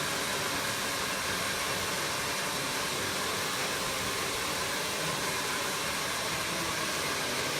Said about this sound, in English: just drying the hair